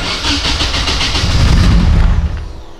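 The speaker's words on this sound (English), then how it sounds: "it started up that time on its own" A rear-wheel-drive converted Honda Civic engine starts up loudly and close by. It cranks, catches, swells into a rough rumble, then eases back as it settles.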